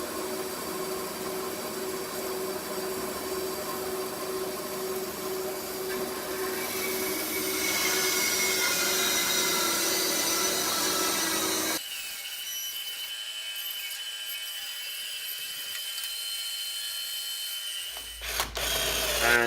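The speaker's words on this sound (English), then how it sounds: "All we need to do is cut them out using a bandsaw." Bandsaw cutting a curved wooden handrail wreath, a steady whining blade and rasping cut that runs loud, then stops abruptly and leaves a quieter machine hum before a final knock.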